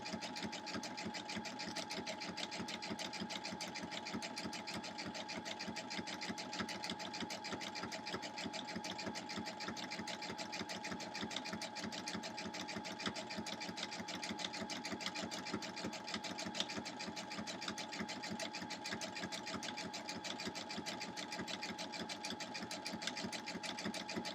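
Steady, fast stitching from a sewing machine piecing a star quilt block, an even mechanical hum with a constant needle rhythm running without pause for over twenty seconds, close and fairly quiet.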